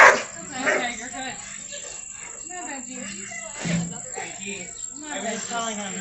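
Dogs bark and yip outdoors while passers-by walk them on leashes. Several short barks and whimpers mix with nearby people talking.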